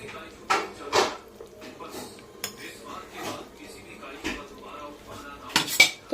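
A lid goes onto a pot of simmering chicken curry with a few sharp metallic clanks and clinks against the rim, close by, with a faint voice murmuring underneath.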